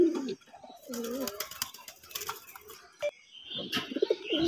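A pair of red pigeons in a cage coo repeatedly, close and clear, with several throaty rolling calls broken by short pauses and light rustling between them.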